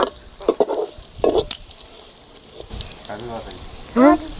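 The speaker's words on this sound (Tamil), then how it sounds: "நல்லா பொன்னரமாக வறுத்துக்கணும்" Puffed rice stirred and roasted in a pan until golden, with scraping stir strokes and a soft sizzle, while a voice talks over parts of it.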